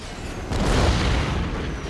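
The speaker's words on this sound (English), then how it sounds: "Bit of bombing runs there." Bombs from a bombing run in Command and Conquer: Red Alert land as a deep, rumbling boom that swells in and lingers for over a second, with no voices.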